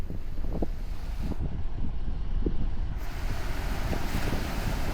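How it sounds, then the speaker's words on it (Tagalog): Large ocean waves roar and break steadily at a surf beach, mixed with gusty wind buffeting the microphone; no voices. "Ngayon, medyo malalaki nga yung alon."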